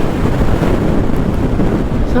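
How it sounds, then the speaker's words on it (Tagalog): Steady wind buffets a microphone outdoors in Tagaytay, a constant low roaring rush with no pauses. "Sarap ng hangin dito"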